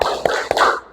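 Quick rhythmic hand claps of the Indonesian "tepuk sejarah" classroom clap, three sharp, close claps spaced evenly within a second, loud and bright against a busy room.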